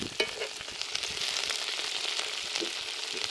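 Garlic prawns frying in a cast iron pan over an outdoor campfire give a steady crackling sizzle with a few sharper pops, close and moderately loud for a few seconds.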